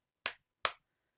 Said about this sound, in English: one of the people that's next to him does 3 loud claps